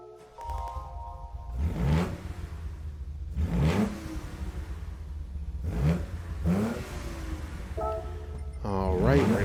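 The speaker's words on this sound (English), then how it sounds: "we'll listen to the startup sound" A 1971 Nissan Fairlady 240ZG in Gran Turismo 7 starts up, its engine blipping through several sharp revs in a repeating rise-and-fall pattern before settling, with a final rev at the end.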